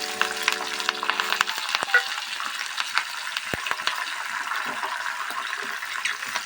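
Green chillies and curry leaves fry in hot oil in a pan with a steady, close crackling sizzle, plus a few brief sharp pops and spatters.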